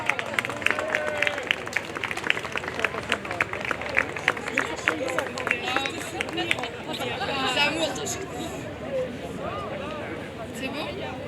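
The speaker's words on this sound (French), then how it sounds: "On les applaudit, s'il vous plaît." A crowd at an outdoor rally in Lyon applauds with dense, sustained clapping mixed with cheers and shouting voices, moderately close, the clapping thinning as general crowd noise takes over.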